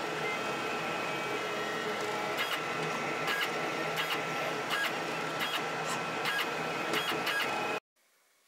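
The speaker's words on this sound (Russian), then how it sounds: "Распечатываем их на 3D принтере." A 3D printer prints the two parts of a homemade digital thermometer enclosure, whirring steadily with a constant motor hum and regular short clicking stepper moves, close and moderately quiet, before stopping abruptly near the end.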